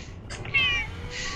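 An elderly 20-year-old cat gives a single clear meow, close to the microphone, over a low background hum, with no talking in the clip.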